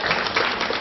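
A brief, full burst of audience applause at a talk on showbiz, art and popular culture: many hands clapping together in a steady, close wash of sound, with no speech over it.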